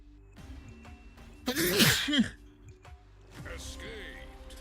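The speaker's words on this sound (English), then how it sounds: "you catch a sneeze and you get a tissue to your nose before you sneeze" A single sharp sneeze caught in a tissue bursts out mid-clip, loud and close, framed by quiet talk before and after.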